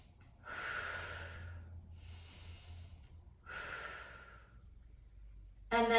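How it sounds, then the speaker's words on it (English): Three slow, deep breaths in and out during a hamstring stretch, each a long airy rush close to the mic, separated by short pauses, with a brief clatter right at the end. "3 deep breaths."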